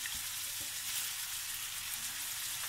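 Meat frying in hot oil in a home kitchen while making tacos, a soft steady sizzle and crackle with a few small pops, quiet and continuous without talk.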